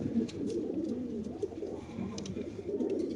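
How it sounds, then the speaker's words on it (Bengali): Racer pigeons cooing continuously close by, a dense low murmuring chorus of overlapping coos with a few faint higher chirps, no talking. "কবুতর একটু পায়ে ব্যথা পাইছে ভাই, আমরা কবুতরটা দেখাই দিই"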